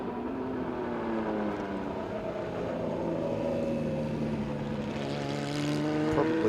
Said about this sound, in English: Car certainly not up in the upper rev range of the capacity of that motor